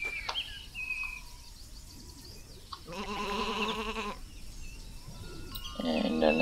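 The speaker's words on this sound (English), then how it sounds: "And another sheep around here." Sheep bleat in the farming video game Isle of Ewe, with short harmonic bleats around the middle and end of the clip over a steady game background.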